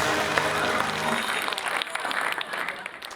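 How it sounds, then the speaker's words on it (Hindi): Audience at a Hindi poetry gathering clapping loudly to welcome a poet onto the stage, a dense burst of applause that thins out toward the end. "एक बार जोरदार तालियां बजाकर चिराग जैन को आमंत्रित करें।"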